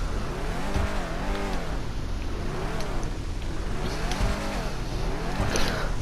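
In the GTA Online video game, a Declasse Drift Tampa's engine blips through several quick revs in a row, each rising and falling in pitch over a steady idle rumble, loud and close.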